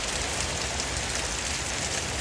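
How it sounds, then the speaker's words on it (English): Steady rain falls outside an open door, a dense, even hiss with no breaks or other sounds. "See how long it's still raining?"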